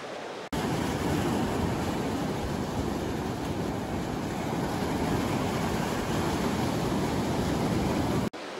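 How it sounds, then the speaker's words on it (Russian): Sea waves roll onto a beach at Kobleve after a storm, producing a loud, steady roar of surf that is continuous and broadband, with no voices. "А мне нравится шум моря."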